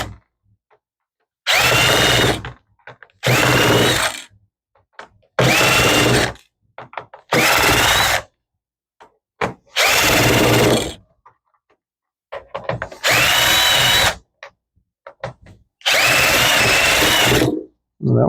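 A powered screwdriver removes screws from a Dell Inspiron 1521 laptop during a teardown, giving seven sharp whirring bursts of one to two seconds each, separated by near silence, close and loud.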